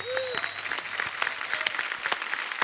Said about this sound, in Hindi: जोरदार तालियां हुमा और साकिब के लिए।